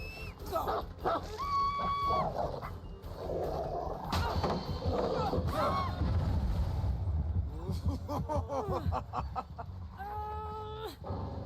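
A hound belonging to the Houndmaster in the video game Dead by Daylight barks and yips in short bursts amid busy game noise, with squeals and chirpy tones scattered over a steady background.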